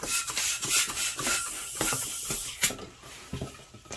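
A hand pump pushes air into a long, thin twisting balloon for a tulip bud, giving rhythmic, close rubbing hisses in quick strokes with no voices.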